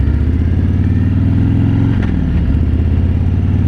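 Harley-Davidson Road King Special, a 2017 model with a Milwaukee 8 engine, rumbles steadily while riding, a deep continuous loping drone with a brief drop in pitch midway, close and loud.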